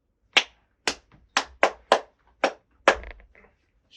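Seven sharp hand claps ring out one after another at a loose, uneven pace, close and crisp against near silence, with a softer tap or two trailing at the end.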